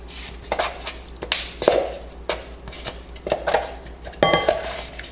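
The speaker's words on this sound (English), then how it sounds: "take your cottage cheese and put it in a bowl" Clattering kitchen sounds as cottage cheese is spooned into a bowl while cooking beef and cheese lasagna: close, irregular clinks and scrapes of utensil against dish, several sharp taps spread across a few seconds, with no talking.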